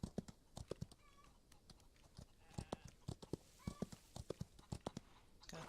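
A horse on a ranch walks with a quiet, uneven series of hoof clip-clops, single strikes spaced irregularly over several seconds.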